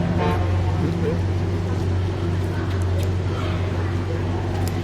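A rat rod rumbling past at a homecoming parade: a deep, steady engine drone close by with traffic noise around it, a short honk, and people talking over it.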